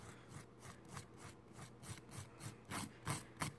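A UV gel fingernail is filed gently by hand, a soft, rhythmic scraping in quick repeated strokes, close and quiet, with no talking.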